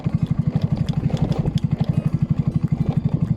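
A vehicle engine chugs in a steady, rapid low pulse while climbing a steep off-road mountain track, loud and close with no talk over it.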